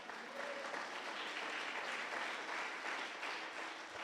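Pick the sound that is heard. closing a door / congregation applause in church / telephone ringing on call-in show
congregation applause in church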